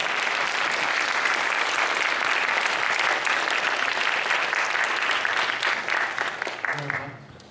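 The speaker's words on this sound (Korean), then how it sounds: "마음 담아서 한번 우리 박수 한번 쳐주세요" A chapel congregation applauds warmly and steadily for several seconds before the clapping tapers off and fades out.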